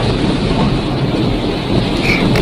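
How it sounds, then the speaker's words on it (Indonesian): Heavy rain pours down with gusting wind on a stormy night, a dense, steady roar of close, loud noise with no distinct thunderclap standing out. "Suatu malam, hujan lebat turun disertai angin dari petir."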